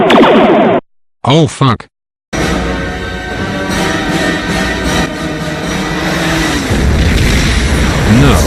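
Sci-fi photon torpedoes fire and detonate in a loud burst of booms and rumbling blasts after a short clipped exchange, with a startled voice briefly heard amid the noise.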